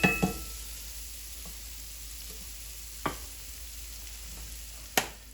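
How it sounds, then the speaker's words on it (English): Bacon, onions and garlic chive sauté in a pan with a soft, steady sizzle, while a few sharp utensil knocks come at the start, around three seconds and near five seconds. "We will saute that for about a minute or so, 2 minutes, till the onions get"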